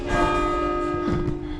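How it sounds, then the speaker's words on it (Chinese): A tower bell in Bologna, Italy rings as a sustained, resonant metallic tone with shimmering overtones. It is fairly loud and steady, with faint background noise and no speech. "哦，钟声。"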